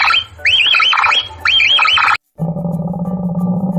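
A capybara calls in a series of sharp, rising squeaky chirps in two quick bursts, followed by a short break and then a steady low, buzzy drone.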